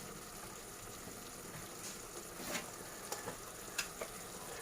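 Mixed Sindhi saag cooks down in a pan with a steady, soft sizzle and bubbling, broken by a few light clinks and scrapes of a spoon.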